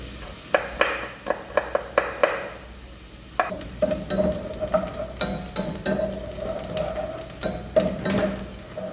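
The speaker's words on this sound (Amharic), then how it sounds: "እንግዲህ እንደምታዩት ሽንኩርቴን በደንብ እየጠበስኩት ነው።" Onions frying in a pan for homemade chicken soup while being stirred, with a steady sizzle under a run of quick scraping and tapping strokes from the spoon.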